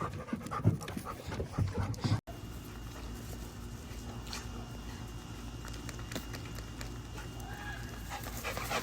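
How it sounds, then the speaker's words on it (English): A dog pants heavily and rhythmically close by, quick breaths continuing throughout at a steady loud level with some brief noises in the background. "Neighbor's dog came over to play with Cash."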